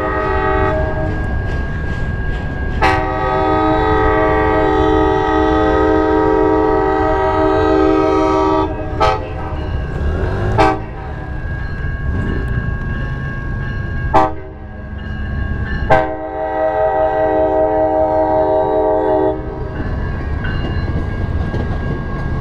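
A passenger train, an Amtrak-type commuter train in Denair, California, passes close by, its loud multi-tone horn blaring in long and short blasts over the steady rumble and clatter of the railcars.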